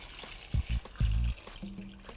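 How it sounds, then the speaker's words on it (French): Water poured into a cooking pot over meat and vegetables for a cordon bleu stew, heard as a few short glugging splashes and then a softer trickle, close and without speech. "On mouille le tout avec une bonne quantité d'eau"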